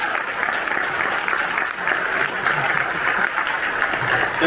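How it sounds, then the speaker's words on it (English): An audience at a high school band's fall concert claps in a dense, sustained round of applause that holds steady throughout, with faint chatter and a few murmurs underneath. "Let's give these guys a round of applause."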